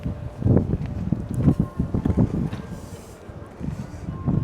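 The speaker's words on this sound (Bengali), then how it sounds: "বাতাস হচ্ছে" Gusty wind at Doha Old Port, Qatar, buffets the microphone in uneven, low rumbling bursts, with faint voices in the background.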